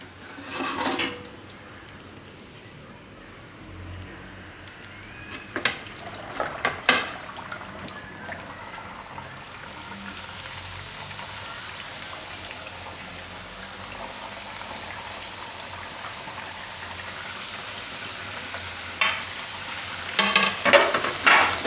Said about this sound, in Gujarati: તો બીજી બધી આપણે એ રીતે તળી લેવું.